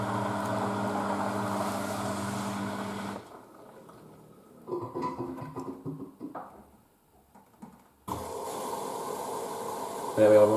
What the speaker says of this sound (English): we're on to second rinse now